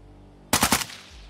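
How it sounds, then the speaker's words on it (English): Video game gunfire: a rapid, loud burst of three or four closely spaced shots, with a short decaying tail after it over faint background noise. "Fire two shots!"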